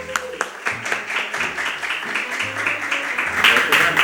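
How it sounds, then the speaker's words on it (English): Applause from a conference audience for a speaker at a payments industry event in Limassol, moderate and steady, mixed with voices talking over it. "So let's give him a round of applause, guys"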